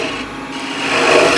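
A wooden bowl being hollowed out on a lathe gives a steady rasping, scraping cut that swells slightly louder toward the end, heard alone without talk.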